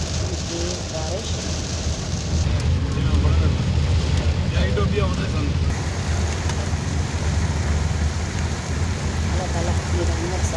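Heavy rain pours down over streets filling with water, a loud, dense, unbroken hiss that swells slightly midway, with a deep rumble beneath and no clear voices.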